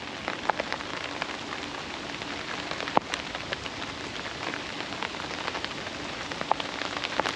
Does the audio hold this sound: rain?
yes